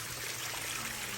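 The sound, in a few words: waterfall in a conservatory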